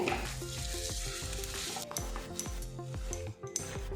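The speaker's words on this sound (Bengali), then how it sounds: "মশলার সাথে আলুটা ভালো করে আমি ম্যাশ করে নেব" Dry-cooked potato being mashed with spices in a pan for a spinach snack, a steady run of rhythmic scraping and pressing strokes over a continuous low sizzle, close and fairly loud.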